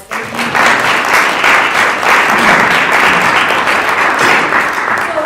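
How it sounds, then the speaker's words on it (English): Sustained applause from a theatre audience greeting a returned citizens' theatre troupe and social justice think tank, loud and steady clapping that swells in quickly and holds for several seconds with no talk over it. "Round of applause, please."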